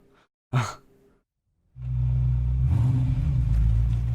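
A car engine in the street-racing game Need for Speed Heat starts up after a short sigh-like sound and settles into a deep, steady, purring idle rumble that stays loud and continuous.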